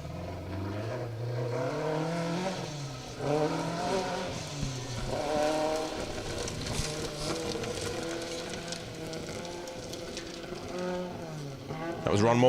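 A Ford Escort rally car, car 177, spinning on a hairpin at the Woodpecker Stages Rally 2023, engine revs rising and falling through the turn, with a commentator talking over it.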